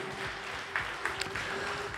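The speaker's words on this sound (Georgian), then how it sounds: "Last Samurais გადაუხადოთ დიდი მადლობა და გავაცილოთ აპლოდისმენტებით" A crowd gives faint, distant applause to the Last Samurai team at a grappling event, a soft wash of clapping with a few sharper claps.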